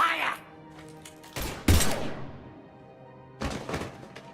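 Gunfire in the video game Mass Effect 3, a few sharp close shots and thumping bursts around the middle and again near the end, with voices and music between.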